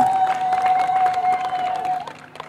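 A crowd claps steadily at a sports gathering in Kinondoni, a dense patter of many hands under a sustained high whistling tone, fading toward the end.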